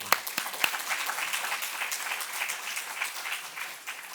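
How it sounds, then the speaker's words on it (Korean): A church congregation at a Sunday worship service breaks into sustained applause, a dense, even wash of many clapping hands that carries on for several seconds with little talk over it. "박수 한번 쳐"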